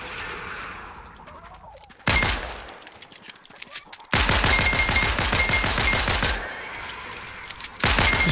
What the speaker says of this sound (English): Destroying these zombies back there. Look at us sniping them.